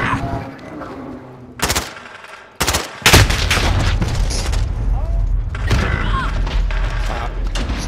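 Gunfire in Call of Duty: Modern Warfare comes in loud bursts and heavy thuds, then becomes a dense, sustained clatter of shots and explosions that continues to the end.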